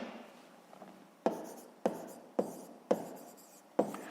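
A pen scratches over paper as figures are written out for a sixth-grade maths exercise, with soft, quiet strokes broken by five sharp taps at roughly half-second intervals.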